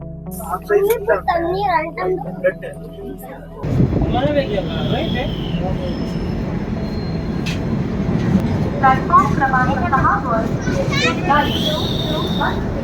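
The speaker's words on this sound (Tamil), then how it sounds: "இப்போ பார்த்திங்கன்னா நம்ம லோக்மான்ய திலக் ரயில்வே ஸ்டேஷன்லேருந்து நம்ம ட்ரெயின் கிளம்பிடுச்சு" A passenger train rumbles steadily as it pulls out of Mumbai's Lokmanya Tilak station, a low continuous roar with rattling, while people and children talk over it nearby.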